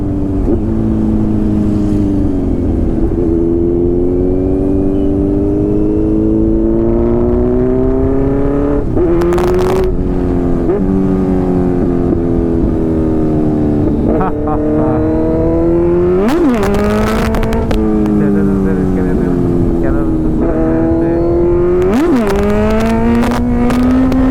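Motorcycle engine revving hard over and over during wheelies on a ride toward a valley, loud and close, with rising and falling pitch sweeps and sharp throttle blips, alone with no talk.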